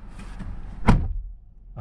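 A car door closes automatically with a single close thud near the middle, preceded by faint mechanical movement and followed by quiet.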